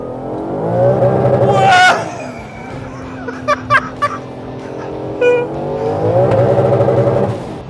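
A 1000 hp Audi A3 with a tuned turbo engine accelerates hard, a loud sustained roar rising in pitch, with people talking over it in the car.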